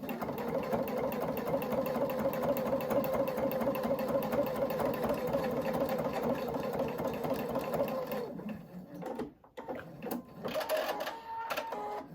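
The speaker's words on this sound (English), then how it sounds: "I'm just going to top stitch and close this seam, and then I'm going to top stitch across the top" A sewing machine top stitching a seam on an envelope clutch bag runs in a steady, fast mechanical rattle for about eight seconds, then slows and stops with a few short bursts and clicks, close and fairly loud.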